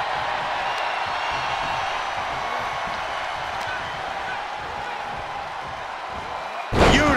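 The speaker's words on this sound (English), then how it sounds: "The sound of this crowd is deafening" Loud arena crowd roars steadily throughout a WWE 2K23 SmackDown wrestling match, ending with a sharp, heavy slam as a wrestler hits the mat.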